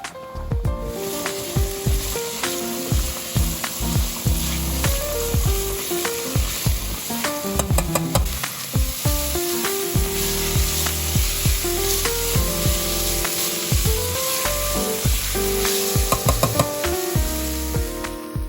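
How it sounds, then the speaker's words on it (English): Vegetables sauté in oil in a heavy-bottomed saucepan for spaghetti, giving a loud, steady sizzle with frequent scraping stirs and utensil knocks throughout, close up and without speech. "I'm going to put a little bit of oil in a heavy bottom saucepan, and we'll saute these vegetables."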